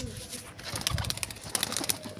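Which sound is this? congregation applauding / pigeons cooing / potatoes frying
pigeons cooing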